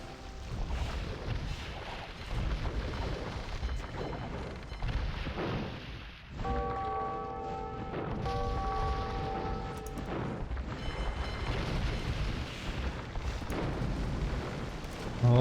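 Demolition ship shots bursting in a competitive real-time strategy match, a dense run of deep booms and blasts layered with game effects and some tonal chimes.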